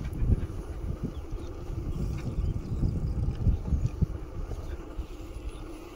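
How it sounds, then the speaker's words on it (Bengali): Wind blows across the open bank of the Kushiyara river, buffeting the microphone with low, uneven gusts and rumble throughout, with no voices. "নদীর ওপার থেকে যে বাতাসটা আসে, বাতাসটা খুব শীতল"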